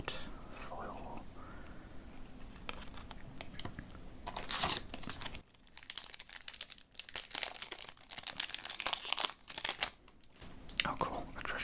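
Magic: The Gathering Streets of New Capenna booster pack wrappers crinkling and tearing close up, with dense foil rustles and sharp rips clustered in the second half. Faint whispery talk comes and goes.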